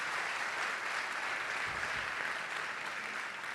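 A church congregation applauds at a Casa de Dios Bet-El service, a steady, fairly faint wash of many hands clapping together without a break.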